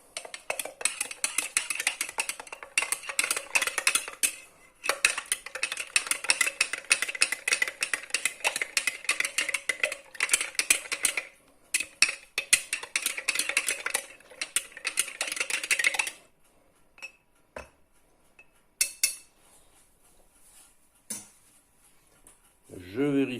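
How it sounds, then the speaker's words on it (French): Water stirred into a second-generation sourdough starter mousse, producing a dense, steady scraping and clicking of a utensil against the bowl for most of the stretch before it falls into sparse taps and a voice. "On remue."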